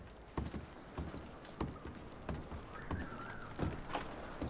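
Quiet, uneven horse hoofbeats clop at a walking pace in Red Dead Redemption 2, with a soft background hiss and a faint tonal sound partway through.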